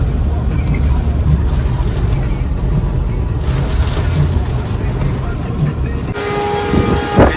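Inside a car pulling over to park during a heavy rain and wind storm, a loud low rumble of rain and road noise continues steadily, with a shift near the end as the car settles, while people talk over it.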